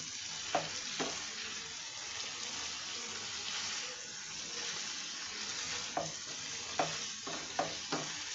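Chopped water lily stems fry and are stirred in a pan, a soft steady sizzle with occasional clinks of a spoon against the pan, close and fairly quiet with no speech.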